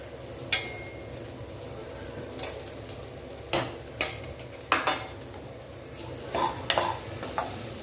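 Vegetables sautéing for sago vegetable upma, with a low sizzle beneath repeated spoon scrapes and clinks against the pan, coming in irregular bursts.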